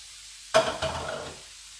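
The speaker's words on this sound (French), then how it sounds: "Alors du coup dans la poêle, voilà, vous remuez un petit peu, hein, ça va fondre légèrement, vous remuez, vous faites chauffer" Zucchini mixture hitting a hot frying pan with a sudden loud sizzle, a second scrape of stirring just after, then the hiss fading over about a second.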